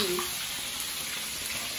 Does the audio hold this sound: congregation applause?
no